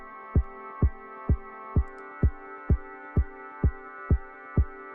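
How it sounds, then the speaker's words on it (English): Four-on-the-floor kick drum pattern in Ableton Live: ten evenly spaced punchy low thumps at a steady dance tempo, layered over a sustained synth chord, no talking. "I'm going to just bring in my 4 on the floor pattern."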